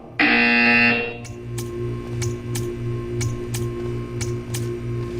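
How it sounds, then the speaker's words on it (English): A loud electronic buzzer in the video game Portal 2 blares for about a second, followed by a quiet, regular ticking against a low steady hum. "When you hear the buzzer, stare at the art."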